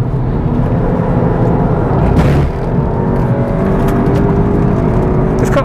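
Tuned Mk8 VW GTI Clubsport on a race track, its engine droning and pulling hard out of a corner, a steady close whir with a brief surge midway.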